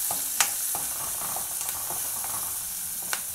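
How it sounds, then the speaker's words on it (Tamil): Onions sautéing in a hot pan, a steady, moderately loud sizzle with occasional soft clicks of stirring, heard close and alone without any voices. "வெங்காயம் வந்து நல்லா வதங்கட்டும்."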